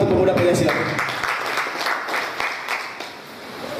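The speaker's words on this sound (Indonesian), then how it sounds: "Tepuk tangan untuk Pemuda Pancasila." A crowd at a Pemuda Pancasila cadre training event in Jakarta applauds in a loose, scattered patter of many hands, with voices mixed in, fading slightly toward the end.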